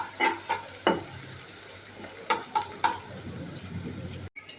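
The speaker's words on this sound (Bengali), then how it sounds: "এখন পেঁয়াজটাকে একটু নেড়ে চেড়ে ভেজে নিচ্ছি।" Chopped onions fry in hot oil with a steady sizzle while being stirred, and sharp scraping clatters of the spoon land in an uneven rhythm close by.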